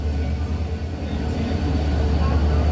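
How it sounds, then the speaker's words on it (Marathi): A Konark Express train pulls into Lonavala station after the ghat section, giving a steady, loud low rumble of wheels and engine with a continuous mechanical roar throughout. "लोणावळा स्टेशनवरती आपली ट्रेन आलेली आहे"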